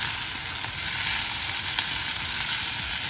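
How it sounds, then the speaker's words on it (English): Green peas cook in a hot pan as the moisture boils off, giving a loud, continuous close-up sizzle with faint stirring ticks and no speech. "So I'm going to cook the green peas till all the moisture evaporates."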